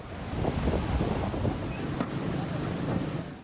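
Rough, storm-churned sea and strong wind buffet the microphone on a coast hit by a mini cyclone in Ampara district. A continuous loud roar of surf and wind gusts lasts throughout.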